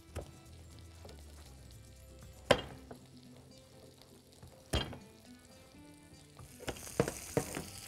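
Garlic sizzling in a frying pan with mushrooms and cabbage, a quiet steady crackle broken by a few sharp utensil clanks and stirring, with louder spattering near the end.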